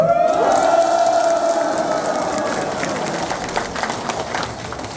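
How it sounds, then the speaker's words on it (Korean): Elderly audience in a senior center auditorium at a filial-piety celebration cheering and clapping, starting with a loud whoop and shouts that give way to steady applause, gradually tapering. "크게 환호하면서 박수 부탁드립니다"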